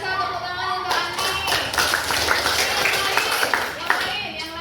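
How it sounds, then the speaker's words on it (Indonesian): A class claps steadily in a classroom, a burst of applause beginning after a moment and continuing, with a voice briefly audible alongside. "tepuk tangan untuk Ani."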